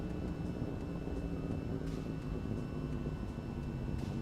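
Aircraft in the VTOL VR flight game touching down on landing, a steady loud engine drone with a constant whine and faint intermittent clicks, no voices.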